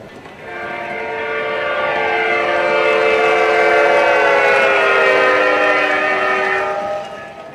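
An MTH DCS model train runs at 60 scale mph with its Doppler feature on. A loud horn-like drone swells as it approaches, holds steady, then bends and fades as it passes, over a rumbling roll.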